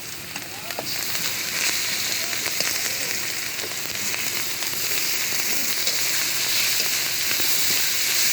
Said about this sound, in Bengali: রসুন আদা বাটা ভালো করে ভেজে নেওয়া হবে